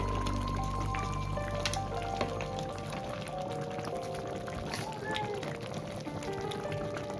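Tomatoes cooking down for chutney in a pan, stirred amid a soft continuous sizzle and wet bubbling, with a faint background hum and occasional clinks of the utensil, steady throughout.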